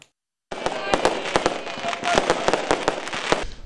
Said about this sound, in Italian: tornano i fuochi di artificio in onore di San Matteo a Salerno